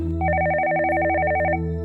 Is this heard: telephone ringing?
yes